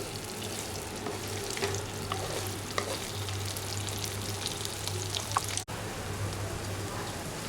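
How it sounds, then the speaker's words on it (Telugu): Boiled eggs frying in hot oil in a pan for egg paneer curry, a continuous close sizzle with crackles and occasional stirring clicks, steady throughout with no talking. "జస్ట్ కాసింత కలర్ వచ్చేటంత వరకు వీటిని ఫ్రై చేసుకోవాలి"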